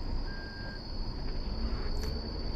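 A car reversing into a parking space at an airport gives off a steady, high electronic reversing beep over a low, continuous vehicle rumble.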